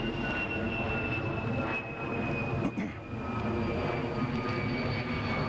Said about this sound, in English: Is that a softball or is that a jet from the Air Force Base?